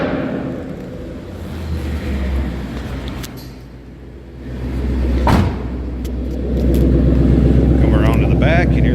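A Gotham Green 2012 Ford Mustang Roush Stage 3 rated at over 540 horsepower sits idling with a deep, steady exhaust rumble, then swells with a brief rev around the middle and settles into a louder, sustained drone.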